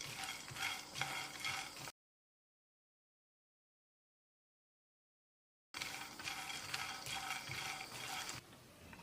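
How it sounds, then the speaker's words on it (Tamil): Peanuts are dry-roasted and stirred in a pan over a low flame, giving a close, busy rattle and scrape of nuts against metal. The sound cuts out completely for a few seconds, then resumes. "பேனில் இந்த நிலக்கடலையை போட்டு குறைஞ்ச தீயில் 1 நிமிஷம் வறுத்துக்கலாம்."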